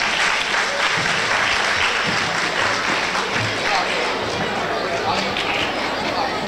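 An audience at a stage presentation claps for two children called up to perform, giving dense, sustained applause with some crowd chatter and movement mixed in.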